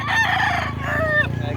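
A rooster named Marvin lets out one loud, close crow, a drawn-out call that rises and then tails off.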